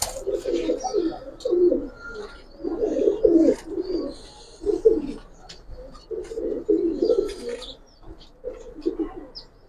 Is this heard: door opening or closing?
no